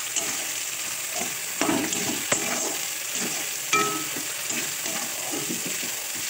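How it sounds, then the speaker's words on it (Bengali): Chopped tomatoes frying in a pan give a steady, close sizzle, broken by scraping and clinking as a utensil stirs them. "তো এখন টমেটোগুলো দিয়ে দিচ্ছি আমি"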